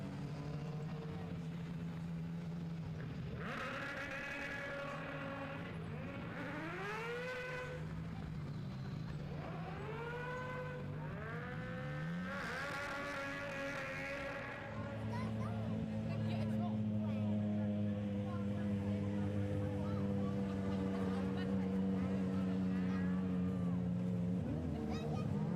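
Rallycross racing at Lydden Hill: 850cc cross-car and 1000cc RX 150 single-seat buggies revving and sweeping past under a commentator's continuous talk, engines rising and falling in repeated passes before a steadier drone of cars lining up.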